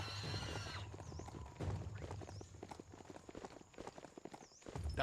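A horse's hooves clop steadily in a game, a rapid, close rhythm of hits that carries through the whole stretch after a short neigh at the start.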